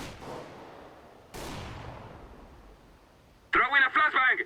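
In CS:GO, a flashbang grenade detonates with sharp bursts followed by fading echoes, and a short burst of radio-like chatter comes at the end.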